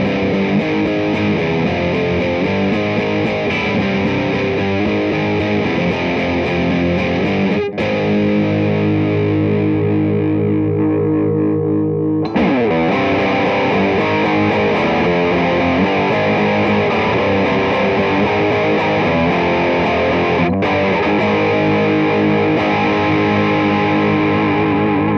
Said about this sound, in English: the DS2 still gives you those absolutely searing tones you would expect from a Boss distortion, with the addition of a turbo option